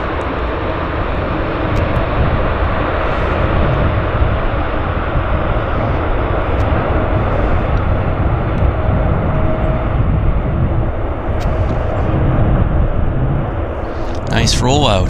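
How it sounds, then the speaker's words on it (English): A passenger airplane landing and rolling out at YVR airport in Vancouver, a loud continuous engine roar with reverse-thrust rumble held steady throughout, heard from nearby outdoors. "It's a very cool landing."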